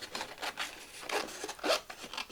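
Paper fussy cuts for boho bookmarks being trimmed, a run of short, dry snipping and rasping cuts repeating close by at a steady working pace, with no voices.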